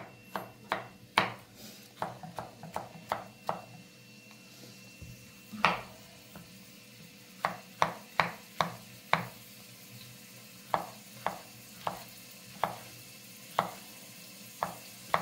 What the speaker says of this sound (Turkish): ben mantarlarımızı doğramaya geçiyorum